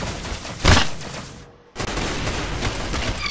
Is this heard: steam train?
no